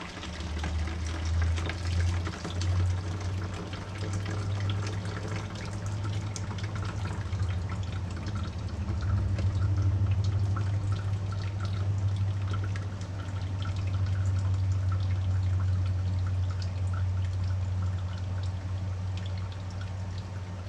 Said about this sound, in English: We're just going to put it through that coffee filter.